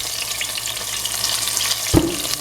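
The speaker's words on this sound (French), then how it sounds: "Pour faire suite à la friture de mes cuisses de poulet," Chicken thighs fry in hot oil with a steady close sizzle and crackle, and one brief knock or stir near the end.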